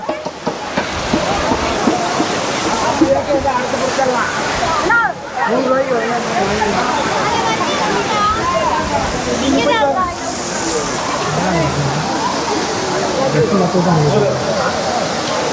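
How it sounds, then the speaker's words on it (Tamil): The main falls at Courtallam pour with a constant rushing roar while a person talks over it throughout. "ஃபால்ஸில் பாருங்கள் தண்ணி எவ்வளோ அழகாக கொட்டிகிட்ருக்கு"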